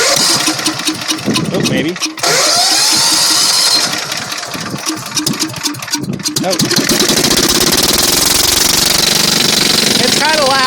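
A new engine-driven welder is cranked and started, sputtering through a couple of tries before catching and settling into a loud unmuffled rattling run, close by, with a man's brief exclamations over it.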